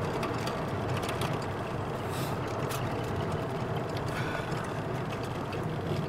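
A 1986 Ford Mustang GT cruises in second gear, its engine a steady low rumble mixed with road and wind noise, close and continuous throughout.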